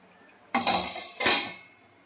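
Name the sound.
covering the curry pot with a lid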